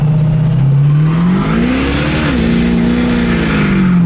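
A 1973 Cuda muscle car spins its tires, the V8 engine roaring loud and close in a sustained rising and falling rev without voices.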